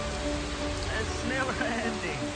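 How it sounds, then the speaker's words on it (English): Rain falls steadily in Bangalore, a soft continuous hiss of drops spattering on the ground and nearby surfaces, with a faint low hum underneath. "Look at that rain. In Bangalore."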